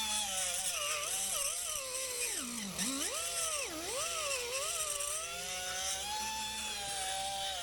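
A power tool cuts a slot in aluminum on a vintage Polaris Speed Run race snowmobile. It gives a loud, continuous, close whine whose pitch sags and recovers several times as the tool bites under load.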